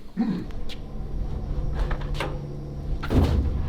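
A door being opened during a move, with a couple of knocks and thumps of the latch and panel, close by amid light background noise.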